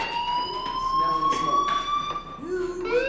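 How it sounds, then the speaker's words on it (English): A school fire alarm in the video game Life Is Strange rings as a continuous, loud electronic tone, with a voice briefly overlapping near the end. "Hey, do you hear that fire alarm?"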